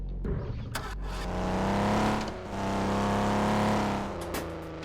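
A tornado chaser's scout car engine turns over and revs, rising and dipping in a strained roar, then revs hard again, loud and close with no talk over it.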